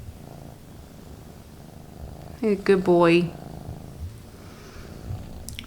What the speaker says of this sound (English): But he's still purring. Can y'all hear him?